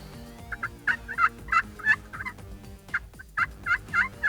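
Repeated wild turkey gobbles ring out in quick bursts, fairly close, with several birds calling over one another in a quiet outdoor setting.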